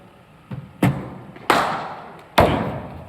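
Cricket bat striking balls fed by a bowling machine at practice, with a soft thump followed by three sharp, loud cracks spaced under a second apart, each ringing out briefly.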